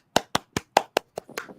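Hands clap alone in a quick, steady run of about seven sharp, close claps, the last few softer and less even.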